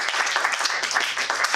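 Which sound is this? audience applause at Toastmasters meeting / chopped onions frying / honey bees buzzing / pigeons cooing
audience applause at Toastmasters meeting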